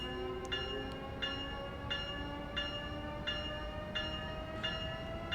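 Bell of an Amtrak ACS-64 electric locomotive in the Train Sim World game ringing in a steady, evenly spaced rhythm about every two-thirds of a second over a low rumble, moderately loud and with no voices.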